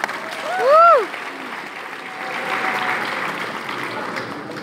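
Steady applause from a crowd fills the clip, with a brief whistle near the start.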